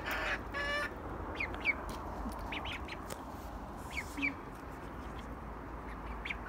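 Ducks quack in short scattered bursts among other fowl in a backyard pen, fairly faint and intermittent over steady low background noise.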